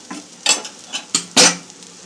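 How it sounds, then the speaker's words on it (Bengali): Rice and chana dal being fried with spices in a pan for khichuri, giving intermittent scraping stir bursts with a soft sizzle between them, close and fairly loud, no voices. "বন্ধুরা, 3-4 মিনিট আমি চাল আর ডালটা কষিয়ে নিয়েছি।"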